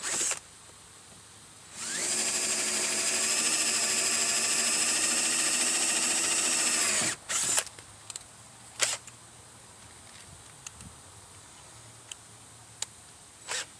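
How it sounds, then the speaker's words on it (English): A power drill with a 13/64 bit bores a hole for a 3/16 pop rivet while building DIY Chevy Tahoe limb risers: one loud, steady whine of about five seconds, then a few sharp clicks and taps in near silence. "I'll drill it out."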